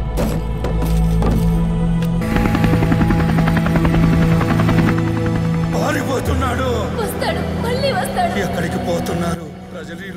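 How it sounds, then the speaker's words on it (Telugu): A helicopter's rotor and engine drone through a scene in the 2022 film KGF Chapter 2, with a loud, steady whir under dialogue and dramatic music. "హెలికాప్టర్ రెడీ చేయమను."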